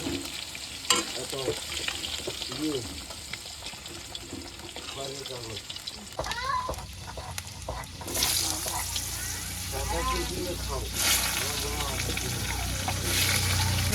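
Marinated fish fries in a pan with a strong, steady sizzle and bursts of crackling that swell louder later, while someone talks nearby over the frying and kitchen clatter.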